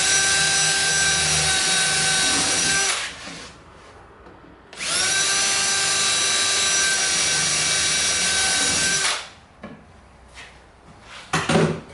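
A power drill whines steadily through the wooden back of a drawer box in two long bursts separated by a short pause, followed by faint clicks and handling noises.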